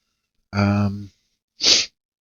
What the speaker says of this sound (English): Knew I was going to sneeze.